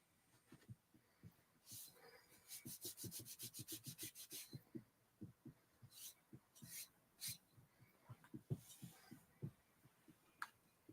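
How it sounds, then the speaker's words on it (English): Quiet, close scraping of adhesive dots off wood in a run of rapid strokes, then slower scattered scrapes with pauses between them. "So those little dots is what I'm kind of scraping off here"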